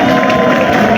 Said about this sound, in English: Please clap for yourselves, comrades.